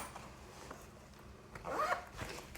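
A wallet zipper is drawn shut with a quick, close rasp after a short spell of quiet handling noise.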